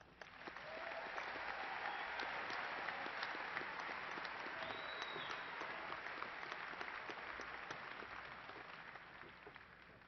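A large crowd at a university fall commencement ceremony gives graduates a long, dense round of applause, steady and full throughout with a few scattered louder claps.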